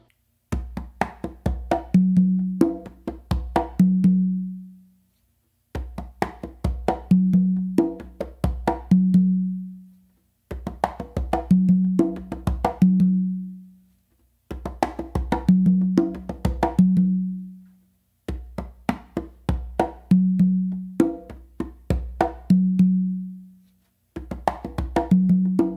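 Two congas play a full songo rhythm, with crisp slaps and deep bass tones repeating in five or six close, even phrases, each set off by a short pause.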